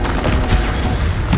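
Stupefy spell bursts in a Hogwarts Legacy duel, a few dull booming thumps amid busy combat noise, loud and close.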